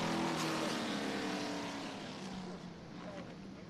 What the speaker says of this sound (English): A couple of great cars making great noises on the racetrack right now.